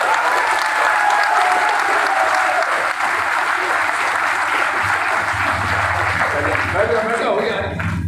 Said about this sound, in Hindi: जब रत्नेश कुशवाहा का हम प्रस्तावक बन गए हैं तब इतना कमजोर ताली नहीं चलेगा।